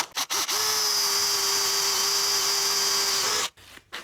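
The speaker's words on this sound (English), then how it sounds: "I'm going to wallop through with a 13mm drill bit." A power drill fitted with a 13mm bit bores straight through a guitar body blank in one sustained, steady whine lasting about three seconds, with brief bursts from the drill before and after it.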